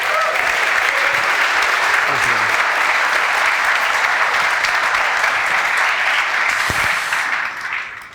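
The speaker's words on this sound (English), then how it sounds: "Big round of applause, please." An audience claps in sustained, dense applause at a live business talk show, loud and even throughout before tapering off at the end, with no talk over it.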